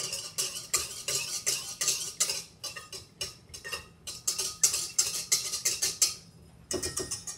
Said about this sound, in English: We're just going to give this a quick stir.